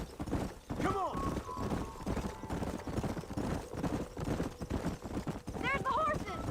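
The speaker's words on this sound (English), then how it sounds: "There's the horses!" Horses gallop with rhythmic clip-clop hooves in the Red Dead Redemption western video game, steady throughout under continuous talk and a whinny.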